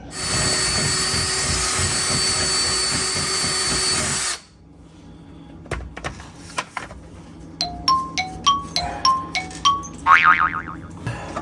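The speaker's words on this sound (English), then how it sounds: "So I'm gonna try to see if I can rivet that down." A broken clip on a gas tank is riveted: a loud, steady mechanical whir runs for about four seconds, then gives way to a quick series of sharp clicks and springy metallic twangs.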